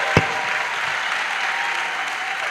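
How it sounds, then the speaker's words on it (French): A church congregation bursts into sustained applause, a dense wash of clapping from many hands that carries steadily through the space, with one sharp louder clap near the start. "Acclamons Jésus-Christ"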